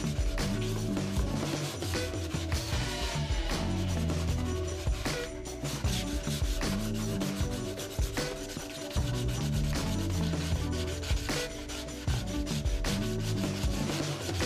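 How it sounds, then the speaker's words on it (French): Steady abrasive sanding of two wooden side walls clamped side by side, shaped to the same curve; continuous loud rasping strokes in a dense, unbroken rhythm, close up with no talking. "Si vous fixez les deux parois latérales l'une à côté de l'autre, vous pouvez les poncer uniformément"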